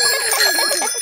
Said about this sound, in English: Ringing your bell lets others know you are there.